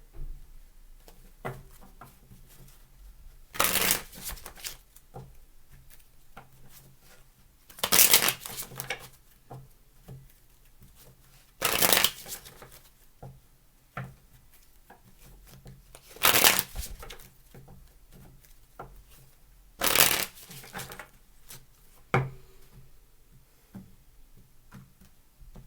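A deck of tarot cards is shuffled in several separate bursts, each a brief loud riffling flutter, with quiet stretches between them that hold soft handling noises.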